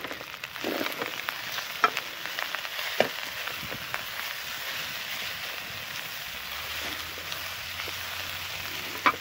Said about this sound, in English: Listen to it. Looks good, smells good.